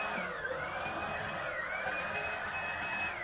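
A leaf blower's steady high-pitched motor whine drones continuously nearby, rising and falling slightly in pitch.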